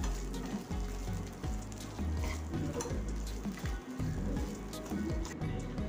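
Potatoes mixed with ginger and garlic in a pan for a potato cheese sandwich filling: close, continuous stirring with spatula scrapes and soft squishing over a gentle sizzle.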